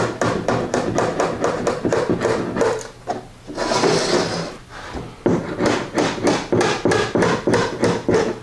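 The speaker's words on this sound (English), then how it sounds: "Now I just need to take these apart and should be able to just tap them and they'll pop apart." Quick, regular taps knock apart the plastic corners of Andersen window screen frames. The bursts of rapid knocking are broken by a short rustling pause, then the tapping resumes.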